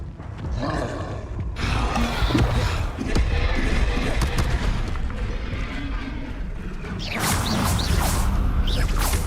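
Expelliarmus spell cast in the Hogwarts Legacy video game: dense magical whooshes, crackling bursts and roaring impacts fill the whole stretch, swelling louder after the opening second, with some game voice mixed in.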